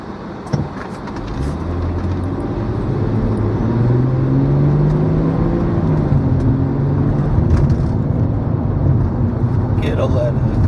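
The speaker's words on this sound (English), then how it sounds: "Get a little acceleration here." A car accelerates onto a freeway at night, its engine note rising in a steady, close rumble throughout, with a person talking over it.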